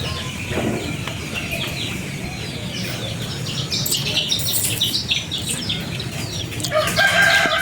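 A chicken crows and clucks amid a busy, noisy outdoor background, with its calls rising and falling over a steady wash of sound.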